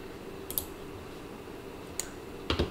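Typing on a computer keyboard while entering a value into a COMSOL heat transfer model: a few short, crisp key clicks spaced apart over quiet room tone, with a small cluster of taps near the end.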